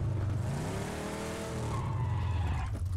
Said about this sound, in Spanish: Cómo ruge, tío, cómo ruge el coche.